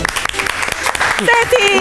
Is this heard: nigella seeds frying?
no